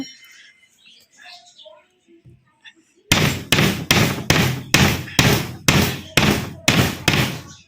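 Rubber strip being tapped into an aluminium mosquito net frame: about ten sharp, evenly spaced knocks in a quick steady rhythm, loud and close, after a few seconds of faint background noise.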